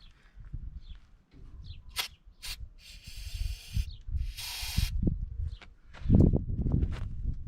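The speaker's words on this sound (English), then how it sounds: "We're gonna give it a little bit of brake cleaner in the carb" Brake cleaner sprayed into the carburetor of a 1970 Volkswagen Bug found in a field, heard as a few short hissing bursts amid rustling, handling and low thumping noises, fairly faint overall.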